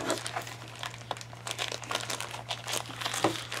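A plastic bag holding a Red Horde 1920 board game from Tiny Battle Publishing crinkles and rustles continuously as it is handled and opened up close, with a low steady hum underneath.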